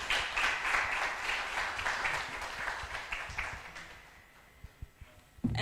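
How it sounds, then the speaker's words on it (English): Applause from an audience at a healthcare professionals' symposium, steady clapping that gradually fades out, leaving a few scattered claps at the end. "So let's give an applause to Professor Hassan Cholong"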